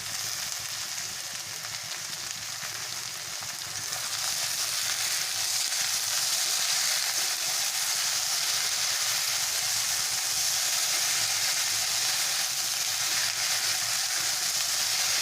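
Taro stolons (kochur loti) sauté with spices in a hot pan, giving a steady, loud, bright sizzle that swells slightly after a few seconds and continues evenly with no talking.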